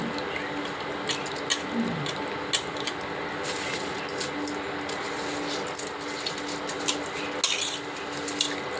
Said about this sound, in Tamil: கொதிச்சு வந்துருச்சு அரிசியை போட்டுக்கலாம் மூணு டம்ளர் அரிசி